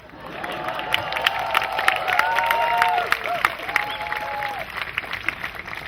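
Wedding guests clap and cheer during a speech, a warm burst of applause with whoops and laughter rising then slowly fading, voices audible throughout.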